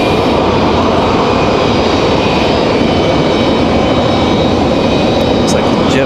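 An arriving Air France airliner at Raleigh-Durham International produces a dense, unbroken roar of engine noise, loud and steady throughout.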